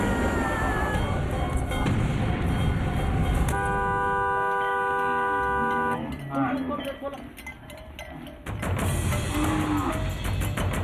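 A loud, sustained vehicle horn blares for a couple of seconds amid busy outdoor noise near a herd of cows in Chhattisgarh, India, and a voice talking.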